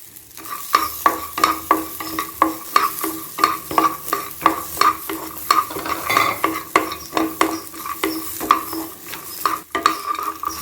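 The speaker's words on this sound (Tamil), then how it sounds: "அடுப்பையும் ஸ்லோவில் வச்சுக்கிட்டு நல்ல வாசனை வர வரைக்கும் வறுத்துட்டாங்க" Coconut pieces roast in a pan on a low flame for sabudana moong dal payasam, with steady frying crackle and repeated spoon stirring and scraping against the metal, close and continuous with no talk.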